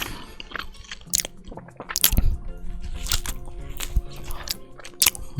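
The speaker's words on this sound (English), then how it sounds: "Ah, peanut butter's crunchy." Someone bites and chews an Uncrustable sandwich with crunchy peanut butter, close-up crunches and wet squishing bites repeating over several seconds.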